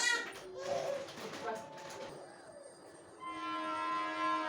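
A train rumbles past with a sustained horn-like tone toward the end, while people talk and a voice is heard over it.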